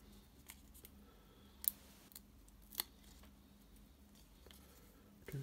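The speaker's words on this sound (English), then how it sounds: "So we're gonna attach this to the card, and then we're gonna snip it off as we did earlier" Scissors snipping cardstock for a handmade stamped card, a few sharp, quiet, close cuts spaced apart against a hushed background.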